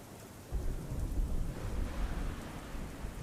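A heavy rainstorm with strong wind in Ahmedabad, with dense steady rain and a deep rolling rumble of thunder swelling after half a second, fairly faint and heard alone.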